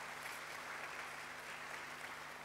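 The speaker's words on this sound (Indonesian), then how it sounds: "Boleh kita tepuk tangan buat orang tuanya?" Steady, dense applause from an audience at a children's event, clapping for the kids' parents, filling the whole stretch at an even, moderately distant level.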